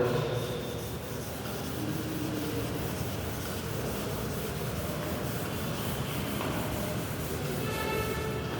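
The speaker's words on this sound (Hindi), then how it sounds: "रब कर देते हैं इसको।" An eraser rubs writing off a board in a steady, continuous scrubbing hiss that runs unbroken for the whole stretch at an even, moderate level.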